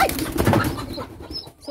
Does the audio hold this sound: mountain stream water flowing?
no